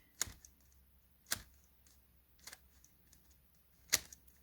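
An X-Man Tornado V3 speed cube turns with forward corner cutting, giving four sharp plastic clicks spaced about a second apart, close and alone in a quiet room.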